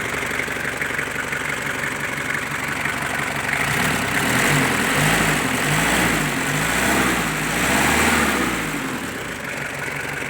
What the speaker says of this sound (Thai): มาฟังเสียงเครื่องยนต์ ฟอร์ดมาราทอนครับ เครื่อง 25ดีเซล นะครับ